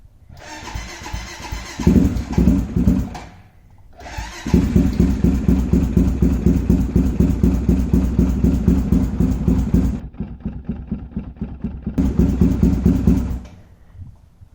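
A Honda 400EX ATV is started cold on choke. The engine cranks briefly, catches, and runs loud and close with a rough, pulsing idle. It dies near the middle, then sputters back briefly and cuts out again.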